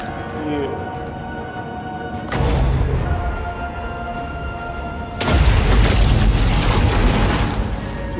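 Artillery in the Total War Warhammer video game, in a Bretonnia battle, fires and explodes as two sudden heavy booms, each followed by a sustained rumbling roar over a continuous battle-noise bed.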